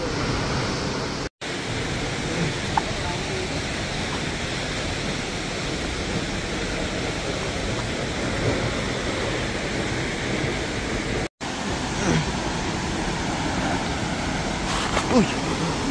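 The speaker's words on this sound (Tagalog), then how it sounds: "Ang lakas ng tubig ng falls." Aw-asen Falls in Sigay, Ilocos Sur pours with a steady, dense roar of rushing water that fills the whole clip loudly and evenly, with brief dropouts and faint voices near the end.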